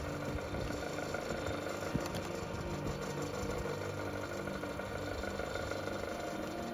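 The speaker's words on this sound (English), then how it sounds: "the motor starts and, through the drive belt, transmits that motion back to the generator" Electric motor turning a generator through a drive belt, a steady mid-pitched mechanical hum and whir running continuously with faint vibration and no speech.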